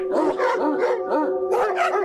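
A dog-like creature in a video game barks and howls in a rapid series of about six harsh, wavering yelps, close and loud with brief gaps between calls.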